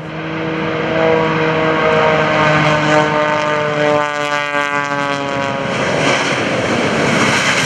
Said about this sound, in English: Mike Wiskus coming down like a stone.